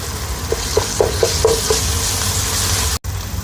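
Garlic ginger paste sizzles in a pan with softened onions and cumin for prawn biryani, a steady loud frying hiss broken by about five rhythmic stirring scrapes early on.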